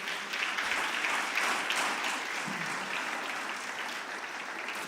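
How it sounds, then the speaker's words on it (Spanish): Sustained audience applause fills a Sunday church service as a crowd welcomes a Holocaust survivor guest speaker, dense, steady and even throughout with no talking over it. "¿Le damos un aplauso?"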